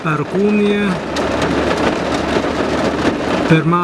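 Steady heavy rain pours down during a thunderstorm with a deep rumble of thunder beneath it, while brief tonal voice-like sounds come in at the start and end.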